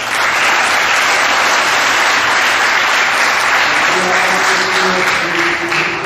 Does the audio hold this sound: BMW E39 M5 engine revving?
no